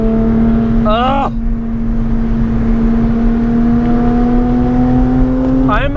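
A Porsche 997.2 GT3 on a race track, its engine a loud, steady in-cabin drone that rises slowly in pitch, with two brief squeals or shifts and voice-like sounds mixed in.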